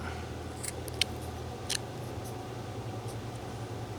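A knife whittles a small wooden miniature figure, making a few faint, sharp scraping cuts against a steady low background hum.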